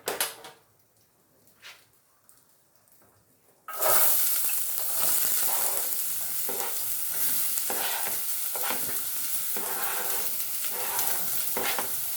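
A few quiet clicks, then a sudden loud sizzle as onions and garlic hit hot olive oil, crackling steadily with occasional stirring scrapes.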